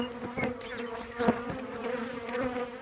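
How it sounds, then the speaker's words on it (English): Honeybees buzz in a steady, dense drone close by in a hive, with swelling and fading tones as individual bees pass near. "Lots of bees in here."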